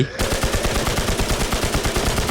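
A PKM machine gun in the video game Infestation fires a rapid, continuous burst of evenly spaced loud shots, close and steady for about two seconds.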